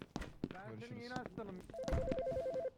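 A telephone rings with a warbling, alternating electronic trill that starts after brief talk and lasts about a second, close and clear.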